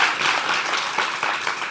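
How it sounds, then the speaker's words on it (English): An audience applauds speaker Céline Williams at a 7in7 event, a steady dense wash of clapping that holds at an even, fairly loud level throughout with no voices over it. "Give her another round of applause."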